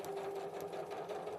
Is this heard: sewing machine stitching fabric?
yes